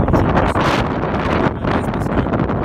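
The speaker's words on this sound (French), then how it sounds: "autour il y a beaucoup de vent et c'est un vent qui est très frais" Steady, roaring, cold wind buffets the microphone throughout on Pic Madrès in the Aude, France, a loud, broadband rush with gusty swells and no voices.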